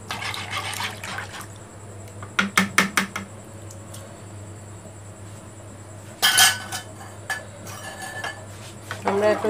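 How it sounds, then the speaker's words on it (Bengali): A metal spoon stirs a sour yogurt mixture for sweet mishti doi in a bowl, giving scattered clinks and scraping taps in short bursts with quiet pauses between, under faint background hum. "আমরা এখন এটা চামচ দিয়ে ভালো করে নেড়ে নিব"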